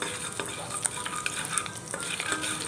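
Whole cumin and a pinch of asafoetida sizzling in hot oil, a close, steady crackling hiss with a few light clicks of a spoon stirring the pan.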